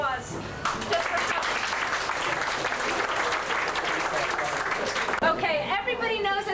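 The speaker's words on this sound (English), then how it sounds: "everybody deserves a big applause just for" A family gathering breaks into applause, a broad, steady wash of many people clapping together for several seconds, with a few chuckles and voices rising near the end.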